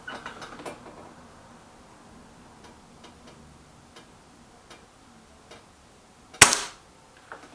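A BSA R12 SLX air rifle fires a single sharp shot, loud and close, preceded by faint ticking and handling noises in a quiet setting.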